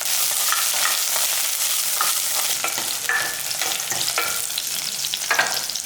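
Curry leaves, garlic, ginger and shallots sautéing in a pan for a mushroom curry, a dense continuous close sizzle with intermittent scraping stirs.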